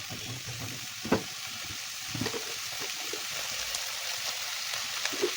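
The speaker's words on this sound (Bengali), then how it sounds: "ভালো করে ভেজে নিচ্ছি।" Drumstick (moringa) pieces fry in oil in a pan, giving a soft steady sizzle broken by a few louder scraping stirs of the spatula, fairly quiet and close.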